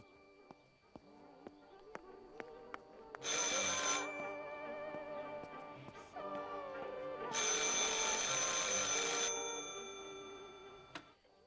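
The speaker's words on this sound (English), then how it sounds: "I should pick up the phone but remain silent." A telephone rings in two long, loud bell bursts a few seconds apart, set against quiet ticking and faint background sounds, with no talking.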